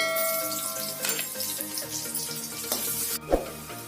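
Garlic pieces and grated ginger sizzle in hot oil in a pan while paneer fried rice is being made, with a steady close frying hiss broken by a few clanks and light stirring noises.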